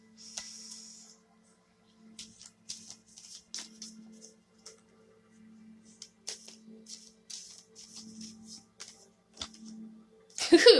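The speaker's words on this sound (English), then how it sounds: "Oh, that was just poor shuffling." Playing cards being shuffled during an aura reading session, a run of short crisp riffling bursts in quick succession at close range, with a low steady hum beneath and a louder rustle at the end.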